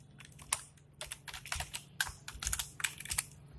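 Someone typing code on a computer keyboard, with quick, uneven bursts of crisp key clicks close to the microphone and no talking.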